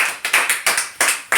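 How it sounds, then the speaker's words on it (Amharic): Children clap for a classmate in a classroom, four or five brief bursts of applause that rise sharply and fade quickly, close and fairly loud. "ቬሪ ጉድ፣ አጨብጭቡላት።"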